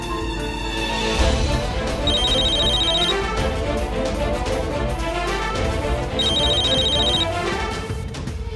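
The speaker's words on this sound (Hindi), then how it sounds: "आरव का फोन उठाओ, पूछो कहाँ है वो।" An electronic phone ringtone plays loudly and continuously, a repeating melodic tone pattern with bright beeping bursts recurring every few seconds.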